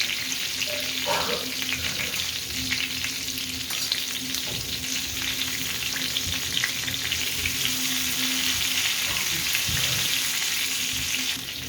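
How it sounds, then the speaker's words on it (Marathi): Eggplant pieces sizzle steadily in a hot pan and are turned over, with a constant close frying hiss and occasional scraping and stirring touches. "अशी दुसऱ्या साईडला घ्यायची करून वांगी सर्व फिरून घ्यायची."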